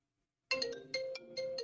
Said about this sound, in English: And somebody's phone's ringing.